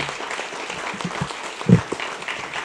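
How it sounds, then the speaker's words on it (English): Moderate applause from a gathered audience greets a parade chairperson at an Italian Heritage Month event held by county officials, a brief even patter of clapping with a few louder claps standing out. "Round of applause for Edie."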